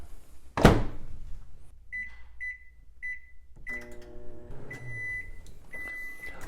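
A loud thud, then a series of short beeps, followed by a microwave oven heating milk, humming steadily with more beeps over its drone.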